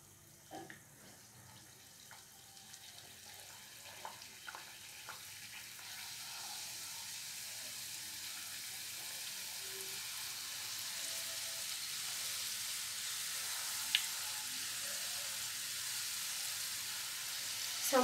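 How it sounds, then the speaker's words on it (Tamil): Paneer samosas dropped one by one into hot oil for deep-frying, a soft bubbling sizzle with small knocks that grows steadily louder and denser until it becomes a continuous hiss. "இப்போ வந்துட்டு நம்ம ஒவ்வொரு சமோசாவும் உள்ளே போட்டுடலாம்."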